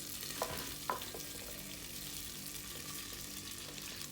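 Mustard seeds, pepper and cumin spluttering in hot oil in a pan, a steady crackling sizzle with a couple of sharp pops near the start, continuous and close with no voices.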